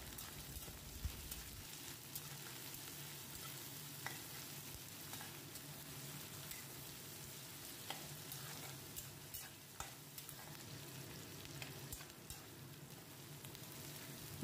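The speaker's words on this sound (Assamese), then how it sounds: "তাৰপিছত এইখিনি মই লৰাই লৰাই ভাজি থাকিলোঁ" Onion, slit green chillies and crushed garlic fry in oil, a soft, steady low sizzle with occasional light clicks of stirring, fairly faint and even throughout, no one talking.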